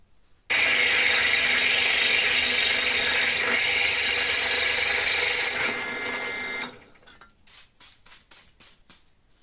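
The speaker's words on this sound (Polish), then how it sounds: "wiercimy te dwa otwory wiertłem" A power drill with a 10 mm bit bores two holes in metal stock for a bar and flat-bar bender, a loud steady whine for several seconds that winds down, followed by a few ratcheting clicks.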